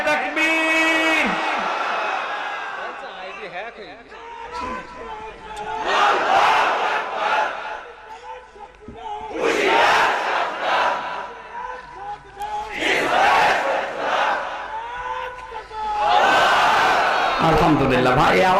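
Large crowd at a Bangladeshi religious gathering shouting Allahu Akbar in unison, answering a preacher's takbir call, in several loud swelling bursts, with the preacher speaking between them.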